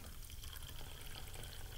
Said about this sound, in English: I'm going to fill this cup up with just plain old tap water.